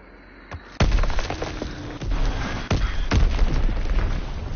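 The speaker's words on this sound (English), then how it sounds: "Recon airborne. Azon bomb mission underway." Azon bombs in Call of Duty WW2 hit in a run of heavy booming blasts, one sharp crack followed by several more rumbling impacts a second or so apart, loud and close.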